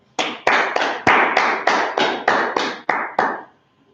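An audience at a brotherhood class event in Minneapolis claps in unison, about ten loud, evenly spaced claps in a steady rhythm, then stops abruptly into silence.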